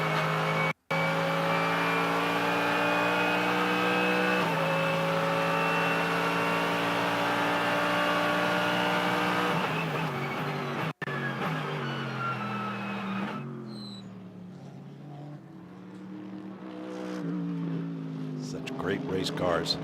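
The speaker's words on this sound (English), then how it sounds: "just listen to the sound of this Mercedes V8" Mercedes V8 GT race car engine screaming at high revs from onboard during qualifying at Indianapolis, a loud sustained harmonic roar that drops and shifts as it lifts off near the end, with commentary over it.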